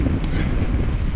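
Steady wind buffeting a microphone, a low rumbling roar throughout with no clear voices, loud and close.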